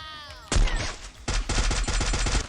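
Gunfire in the video game Free Fire, with a loud single shot followed by rapid bursts of automatic fire in a steady rhythm, close and sharp.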